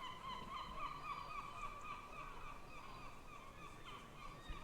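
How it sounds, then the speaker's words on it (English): Gull-like bird calls carry steadily through an online tabletop game session, a continuous layered chorus of cries at moderate level with no talk over it. "now I hear the seagulls properly"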